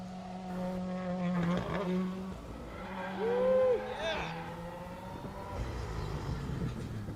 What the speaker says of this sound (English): Man, I love the way those cars sound.